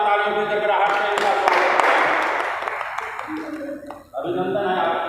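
Audience applause at a Vedic knowledge gathering of saints and city figures at the Navlakha Mahal cultural centre, a dense wash of clapping for about four seconds that briefly dips, then resumes, with a voice talking over it.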